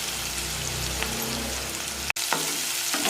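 Onion and green garlic frying in a pan over medium gas, a dense continuous sizzle with a few stirring scrapes and a brief sharp knock partway through, heard close with no talking.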